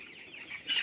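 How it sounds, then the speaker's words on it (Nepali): Broiler chickens about 24 days old on a poultry farm give a brief, faint cluck that ends in a sharper squawk, heard close. "हामीले ब्रोइलर कुखुरा 24 दिनकै हुर्काइरहेका छौं।"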